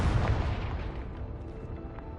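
Confringo explosive spell blast in Hogwarts Legacy, a loud booming burst at the start that rumbles and decays over a couple of seconds, heard alone.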